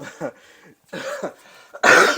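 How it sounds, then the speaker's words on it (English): A person coughs several times in short, harsh bursts, close up, ending with a louder, rougher cough. "Sorry for this cough."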